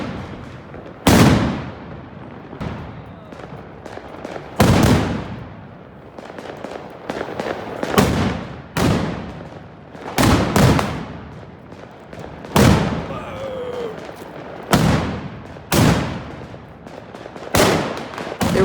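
New Year's Eve fireworks in Naples burst loudly one after another at irregular intervals of a few seconds, each sharp bang followed by a rolling echo and crackle, with scattered distant pops in between.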